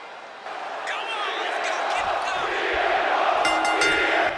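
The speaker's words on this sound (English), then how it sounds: "The crowd is firmly behind Punk as the chants of his name echo throughout the arena" Arena crowd in WWE 2K24 chanting a wrestler's name, CM Punk, as a match begins: a sustained, dense roar of voices fills the space throughout, with rhythmic chant swells rising near the end.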